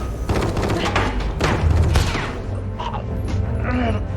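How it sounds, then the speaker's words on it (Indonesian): Loud, dense bursts of gunfire and heavy thuds from a film shootout, layered with booming impacts and mechanical clatter that continue steadily throughout. "Saat itulah terjadi baku tembak."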